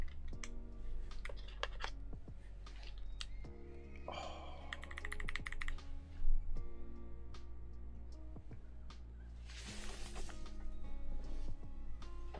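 Quiet, rapid clicking keystrokes from a mechanical keyboard fitted with clicky Box White switches, a steady run of crisp taps with a few busier flurries, heard close and alone.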